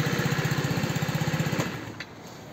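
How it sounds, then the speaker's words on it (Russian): The small engine of an X-Motors Smart II Pro scooter with a variator gearbox runs just after starting, with a rapid, regular putter close by that then eases off, followed by a faint click. "Ключ. Зажигание. Все, завел полпинка."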